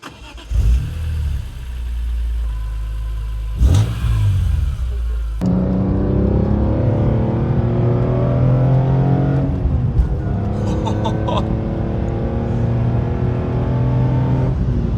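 A BMW M3 E46 engine fires up with a couple of short cranks, then roars into a sustained, revving drive, loud and close from the cabin as the pitch rises and falls through the gears.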